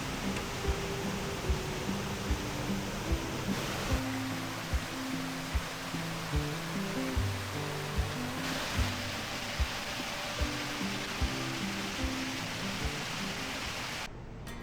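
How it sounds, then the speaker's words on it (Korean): A waterfall pours powerfully into an emerald-colored valley near Seoul, a steady, dense roar of rushing water that fills the whole clip without any voices. "장쾌한 물줄기가 우렁차게 쏟아지며"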